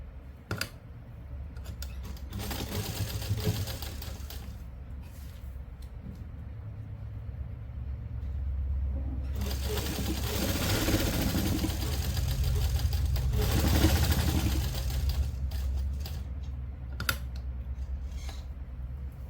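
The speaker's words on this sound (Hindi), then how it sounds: "अब सिलाई लगा लेंगे इस तरह से" A sewing machine stitches fabric for a simple suit in a steady mechanical run, with louder bursts of stitching in the middle and lighter clicks of handling at the start and end.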